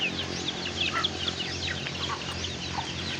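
Several chickens cluck and chatter nearby, overlapping short calls over a low steady background hum, with no voices.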